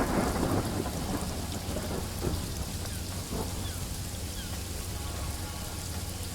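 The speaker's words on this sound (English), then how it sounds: "Wait, it started to rain?" Steady rain and rolling thunder fill a storm scene in the video game Paradise Killer, a dense constant wash with low rumbles swelling throughout, no voices over it.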